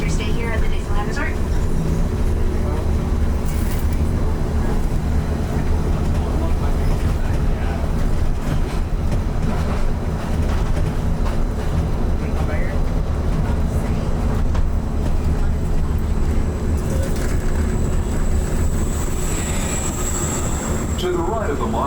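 Steady rumble and rail hum aboard the Disneyland monorail, Monorail Orange, running continuously at close range throughout, with a recorded announcement voice speaking over the ride noise.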